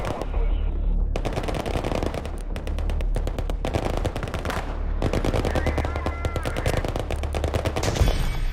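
Rapid machine gun bursts from a gun run in a counterinsurgency wargame video game rattle almost without pause, loud and dense, with brief gaps between long volleys.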